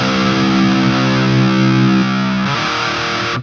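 Heavily distorted death metal guitar tone from an Audiority Grindstein plugin, flipped out of phase for a thin, nasty character; sustained chugging chords ring loud and dense, shifting midway before cutting off abruptly.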